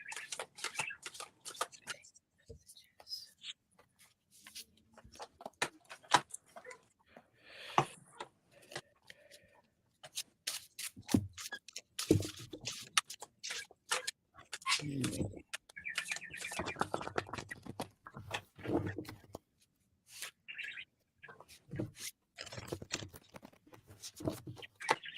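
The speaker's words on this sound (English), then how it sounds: "I'm just shuffling away." Playing cards shuffled during a tarot-style reading, giving repeated dry riffling bursts and soft patter spread throughout, with a person talking intermittently over them.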